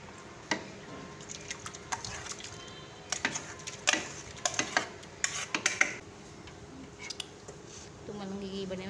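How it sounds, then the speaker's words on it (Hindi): A spoon stirs and presses food in a pot while almonds are mixed in for a Muharram niyaz dish, giving a string of irregular scraping clicks and taps, with a little speech nearby. "ये साथ में चम्मच हिलाएं, दबाएं चम्मच से"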